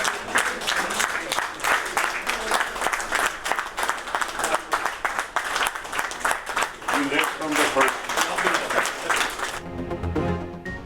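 A cabinet meeting greets Prime Minister Shehbaz Sharif with sustained applause from a room of people, dense steady clapping for most of the clip before cutting abruptly to a quieter tail.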